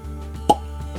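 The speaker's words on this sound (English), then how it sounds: "Cork pop." A single short cork pop from an Old Rip Van Winkle 10 year bourbon bottle, crisp and close, over a quiet low background hum.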